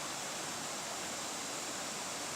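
River water flowing steadily along the Ozark National Scenic Riverways, a smooth, even hiss of moving current, soft and constant with no voices over it.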